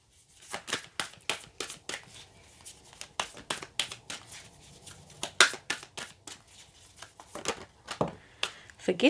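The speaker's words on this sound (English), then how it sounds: "Let's just give them another shuffle." Tarot cards shuffled by hand during a reading, a run of quick papery riffles and soft flicks close up, with brief pauses between bursts.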